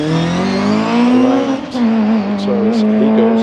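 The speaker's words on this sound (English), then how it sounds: "British Leyland Mini 1275 GT is away off the line" A British Leyland Mini 1275 GT race car launches off the start line at a hillclimb, its engine loud and close, revving hard and climbing in pitch, then briefly dropping at a gear change before pulling on strongly.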